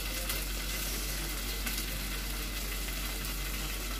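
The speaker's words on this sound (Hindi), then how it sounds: "ये आलू भी थोड़ा इसमें फ्राई कर लेती हूँ मैं" Boiled potatoes frying in hot oil in a pan with garlic and green chillies, a loud continuous hissing sizzle filling the whole stretch with no talk.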